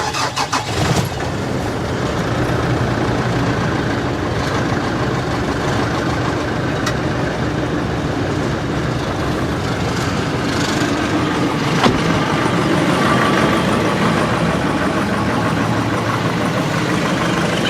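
A Nissan Navara engine cranks and starts after an oil and filter change, then settles into a steady, loud idle that continues for the rest of the clip, with a few faint clicks over the running engine.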